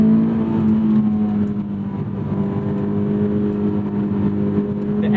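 A Honda S2000 AP2 sports car's engine, which revs to 8,200 rpm, holds a steady, loud mechanical drone with a slight rising rev. It runs continuously for about five seconds with no talk.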